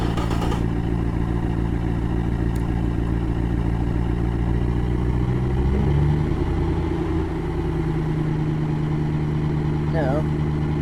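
A 353 cubic inch Chevy small-block V8 in the engine-building game Automation cranks and settles into a loud, steady, throbbing idle that runs throughout, with a brief clatter near the end.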